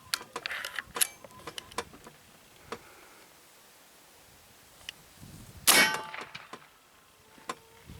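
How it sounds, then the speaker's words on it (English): AEA Zeus .72 caliber air rifle firing its fifth shot with heavy lead, a single sharp loud report in the middle of the clip, surrounded by scattered small clicks and handling knocks. "Go ahead and fire our 5th and final shot."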